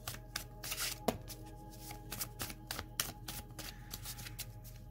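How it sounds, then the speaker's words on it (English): A deck of cards being shuffled up close, with repeated crisp riffles and flutters in a steady rhythm and sharp slaps as the halves are squared, alone with no talk. "I'm gonna shuffle three more times."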